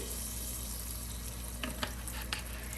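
Butter and vegetable oil heat in a hot pan, giving a steady close hiss of sizzling with a few brief pops and stirring scrapes near the end.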